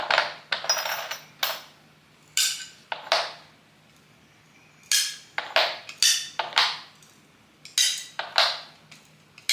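Pieces of fusible glass being set down on a tray one at a time, giving a series of sharp clinks and light clatters at irregular intervals, close and distinct with no talking.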